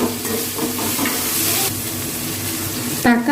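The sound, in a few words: stirring green chillies, mint and coriander in pan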